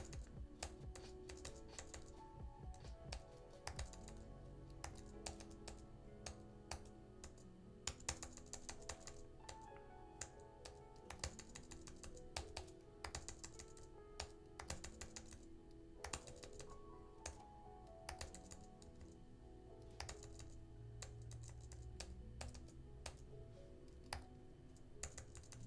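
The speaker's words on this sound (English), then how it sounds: "I'm sure y'all can hear me on the keyboard clicking away" A computer keyboard clicks and taps steadily through a long stretch of editing work, close and distinct, with rapid bursts of keystrokes broken by short pauses and no talking.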